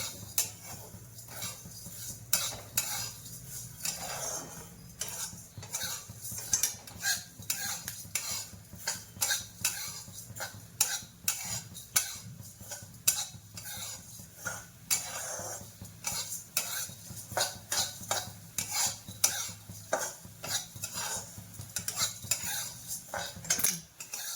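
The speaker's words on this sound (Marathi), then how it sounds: "धने चांगले खरपूस भाजून घ्यायचे." Coriander seeds dry-roasted and stirred in a pan for Maharashtrian kala masala, a dense run of rapid metallic scrapes and rattles of spoon on pan with seeds skittering, continuous and close throughout.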